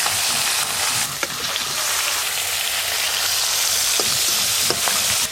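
Fish rubbed with salt and turmeric frying in hot oil, a loud, steady sizzle throughout with a few faint pops and utensil taps.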